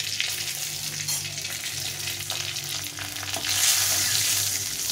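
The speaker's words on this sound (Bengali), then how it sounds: "একটা শুকনো লঙ্কা ফাটিয়ে দিয়েছি, একটা তেজপাতা দিয়েছি, আর কিছুটা পরিমাণ জিরে" Dried red chilli, bay leaf and cumin seeds fry in hot oil, giving a steady, close sizzle with soft stirring scrapes that grows a little louder near the end, with no talking.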